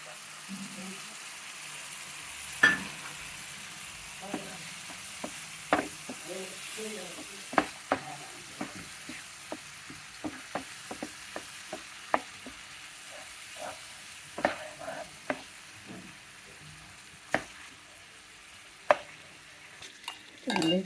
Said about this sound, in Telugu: ఇలా మ్యాష్ చేసుకోవాలండి. ఇది టమాటా మెత్తగా అయిపోయింది.